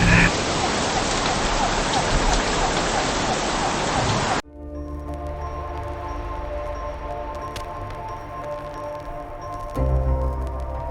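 Heavy rain pours as a dense, loud wash for a few seconds, then cuts abruptly to a quieter, humming interior with faint background noise.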